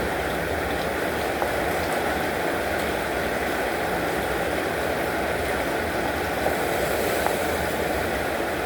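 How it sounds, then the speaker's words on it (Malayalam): Heavy rain pours outside in Kerala, producing a dense, continuous hiss that stays steady throughout, with a faint low rumble underneath and no one talking. "ഇവിടെ നല്ല മഴ ഉണ്ട്"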